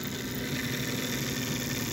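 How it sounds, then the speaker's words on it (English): American Flyer model train engine converted from AC to DC, running with a steady electric motor whir and faint mechanical hum, close and continuous without talk. "We just want to look at the engine, see how it's running."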